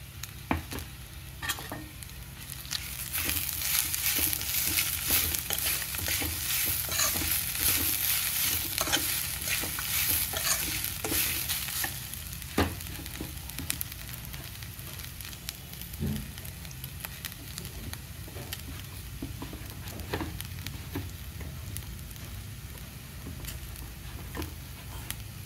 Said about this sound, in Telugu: ఇలా వేగిపోయిన దొండకాయ ముక్కల్లో కొబ్బరి తురుము కూడా వేసేసుకోవాలండి